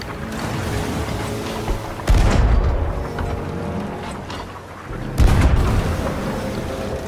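Two heavy booming cannon blasts in Sea of Thieves a few seconds apart, each with a rumbling tail, over a constant background din.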